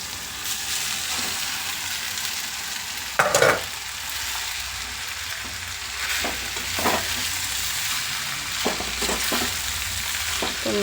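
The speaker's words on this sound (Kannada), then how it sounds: "ಈಗ ಬಿಸಿನೀರಲ್ಲಿ ಹಾಕಿ ಶೋಧಿಸಿ ಇಟ್ಕೊಂಡಿರೋಂಥ ಶಾವಿಗೆ ಹಾಕ್ಕೊಂಬಿಡೋಣ." Soaked vermicelli, strained after a dip in hot water, goes into a hot pan for shavige bath. A steady frying sizzle runs throughout, broken by several sharp scraping stirs, the loudest near the three-second mark.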